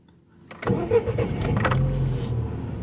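A VW Golf engine is switched on: a key click and a brief cranking whir, then the engine catches and settles into a steady, close idle.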